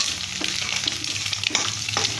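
Scrambled egg and carrots for bihun goreng stir-fry in a hot pan, giving a continuous loud sizzle broken by repeated scraping stirs of the spatula, with no voices.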